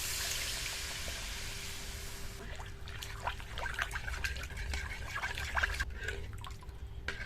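Water poured into a fish curry masala, a continuous gushing wash for a couple of seconds that gives way to a softer bubbling, dripping trickle close by.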